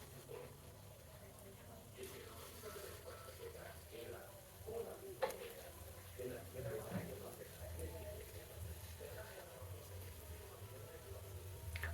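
Gulab jamun dough balls fry in hot oil with a soft, continuous sizzle and bubbling, faint and close, while a person talks over it.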